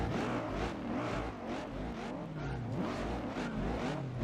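Several race cars on a circuit in the racing game Gran Turismo 4, including a Saleen and a supercharged Shelby. A dense roar of engines sweeps up and down in pitch as the field revs and accelerates.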